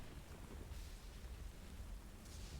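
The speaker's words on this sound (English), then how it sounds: "it sounds like there's a lot of lightning" A thunderstorm during a sea voyage, with a steady wash of heavy rain and low rumbling thunder filling the whole stretch.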